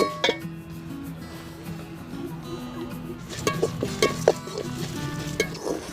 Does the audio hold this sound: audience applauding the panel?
no